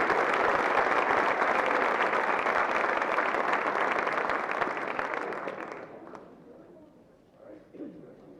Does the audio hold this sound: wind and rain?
no